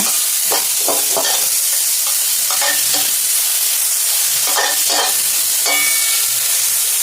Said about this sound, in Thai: แล้วก็ผัดพริกให้หอมก่อนนะคะ